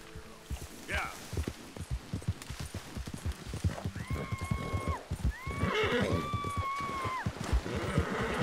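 Horse hooves clip-clop steadily in the video game Red Dead Redemption 2, joined by a brief whinny, while a player talks over the top.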